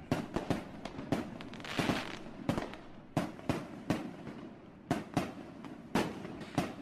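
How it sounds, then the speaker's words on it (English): Sharp fireworks bangs and crackles from a video game pop in an irregular rapid series, some louder than others, over a faint rumbling background. "besides the ever-going firework display in the sky, they actually do have some mortars"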